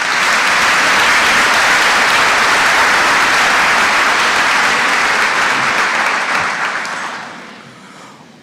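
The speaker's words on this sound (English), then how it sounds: "Please give them a round of applause." An audience applauds loudly and steadily at a community college commencement ceremony, filling the hall with dense clapping that fades out near the end.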